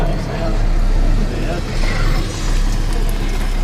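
A French-built Griffon all-terrain armoured combat vehicle drives along with a heavy, steady low engine rumble and road roar, loud and close, with a voice talking over it.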